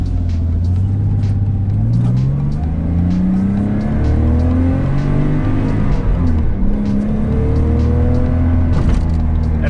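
A Porsche Boxster 986 engine drones loudly from inside the car while driving, its pitch sweeping up and down through gear changes in a continuous, close rumble with no talk.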